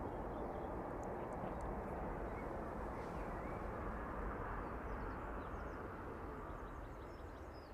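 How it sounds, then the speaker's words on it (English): Ryanair airliner landing at East Midlands Airport, arriving over the runway threshold in the evening: a steady, broad jet roar holds at an even level throughout, slightly easing toward the end, with no voices. "Ryanair making its way over the threshold."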